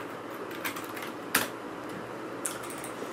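Computer keyboard keys tap out a new folder name, giving a few light, scattered clicks with one sharper keystroke, close and fairly quiet against a soft background hiss.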